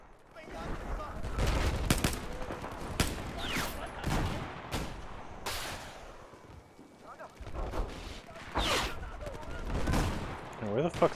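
Gunfire in Battlefield 4: repeated loud bursts and volleys of shots, some close and sharp, others more distant, coming in irregular clusters with short lulls between them.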